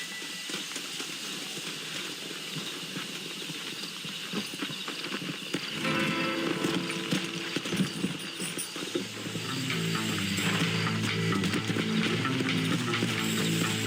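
Continuous clopping of horse hooves at a trot in Red Dead Redemption under dense game ambience, with clicking mechanical sounds and music growing louder toward the end.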